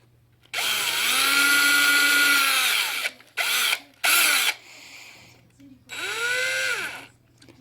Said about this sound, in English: Then I'll take my drill,